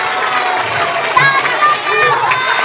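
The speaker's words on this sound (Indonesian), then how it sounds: "kasih tepukan sama anak-anak Nova" Children at a school anti-bullying session are applauded and cheered: a lively crowd of young voices shouting and clapping together, dense and close, with brief louder bursts.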